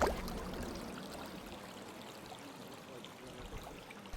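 River water flowing steadily over rocks on a warm summer day, a continuous broadband rush and trickle, close and even in level with no voices.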